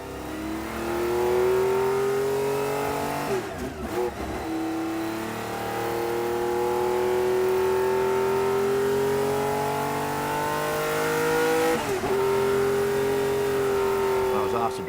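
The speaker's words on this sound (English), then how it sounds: "With the V12, just sounds absolutely fantastic." A Ferrari 512M V12 racing engine sustains a loud, steady high-revving whine that shifts pitch slightly, with brief gear-change dips near the start and toward the end.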